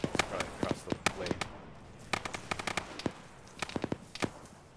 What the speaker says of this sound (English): somebody's shooting GPs or a auto grenade launcher